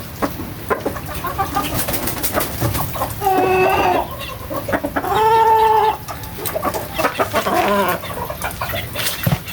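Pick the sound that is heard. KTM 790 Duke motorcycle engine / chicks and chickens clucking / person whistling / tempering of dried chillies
chicks and chickens clucking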